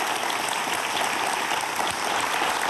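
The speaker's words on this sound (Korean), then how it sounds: "교수님께 오늘 큰 박수 부탁드립니다" Dense, steady applause from a studio audience fills the space, loud and continuous with no voices, honoring a physics professor after a talk.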